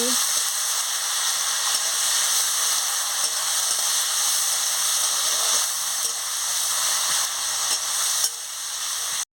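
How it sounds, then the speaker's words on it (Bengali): Chopped onions fry in a pan with a steady, dense sizzle that holds loud and unbroken throughout, with occasional stirring. "আমি পেঁয়াজ কুচিতে দিয়ে দিচ্ছি। দিয়ে ভালো করে ভেজে নিচ্ছি।"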